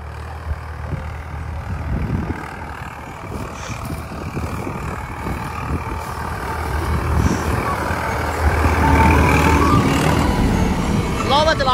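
A Swaraj 855 4x4 tractor engine runs steadily with a low rumble in a wet farm field, growing louder toward the end while people talk over it.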